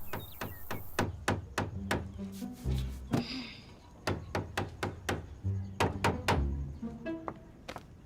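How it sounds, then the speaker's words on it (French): A cartoon hammer bangs nails into a wall in quick bursts of loud, sharp knocks, several strikes per second with short pauses between groups, heard alone without talk. "saleté de marteau, saleté de clous et saleté de mur"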